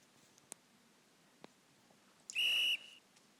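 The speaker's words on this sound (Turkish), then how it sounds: "47. dakika uzatmalarla birlikte ilk yarının düdüğü çaldı" A referee's half-time whistle in the soccer game Online Soccer Manager, one clear shrill blast of under half a second, preceded by a few faint clicks.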